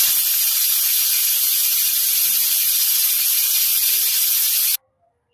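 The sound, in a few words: pressure cooker releasing steam whistle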